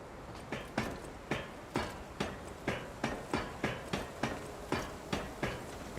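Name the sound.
weapon being ground in Lies of P video game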